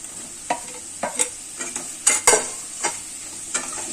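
Chopped tomatoes hit a hot pan for paneer butter masala over a low flame, giving a soft sizzle punctuated by several sharp stirring scrapes and clicks of a spatula, close and without talk.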